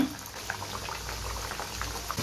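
Pieces dropped one at a time into hot oil in a pan, bubbling and frying with a soft steady sizzle and a few faint clicks, close and unaccompanied by talk.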